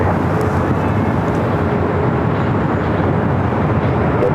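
A Delta airliner taking off from runway 24 left at LAX, a steady broad engine roar that holds constant throughout, heard from a distance with no talk.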